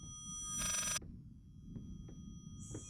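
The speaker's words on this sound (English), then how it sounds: "Sounds like a phone." A telephone rings in the horror game Layers of Fear: a short, bright old-fashioned bell burst, then quiet room tone with small clicks before a second ring begins, faint and somewhat distant.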